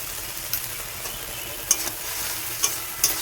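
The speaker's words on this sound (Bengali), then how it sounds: "এখন আমি নুন হলুদ দিয়ে ভাজাভাজি করবো" Soft, steady sizzle of spices frying with salt and turmeric in a pan, broken by a few sharp scrapes and clicks of a spoon stirring.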